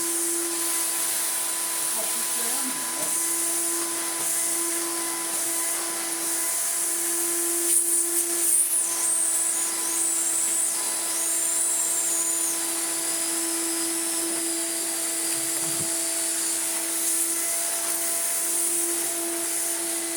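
A well-used 1992 Numatic NV200 vacuum cleaner runs with a borrowed floor head, a steady loud motor whine with a high airflow hiss, brief shifts as the head moves, and a voice faintly heard beneath.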